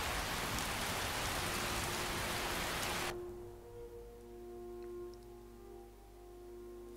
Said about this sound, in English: That rain is really loud as well.